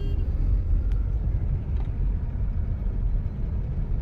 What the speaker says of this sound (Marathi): आता थोडंसं एक्सलेटर देऊ